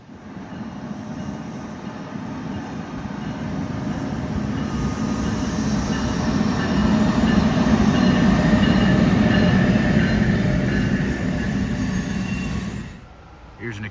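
NJ Transit train 652 pulls out of a station, a broad rumble of wheels and cars that swells steadily, peaks, then fades away near the end.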